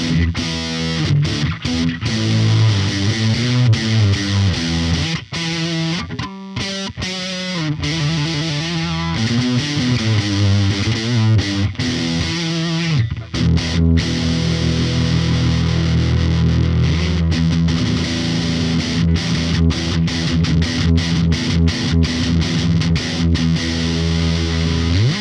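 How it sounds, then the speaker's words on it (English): A vintage 1980s Burny Super Grade electric guitar played through distortion mode gives thick, sustained overdriven chords and riffs, loud and continuous with no talking. "So I'll turn the color over to distortion mode"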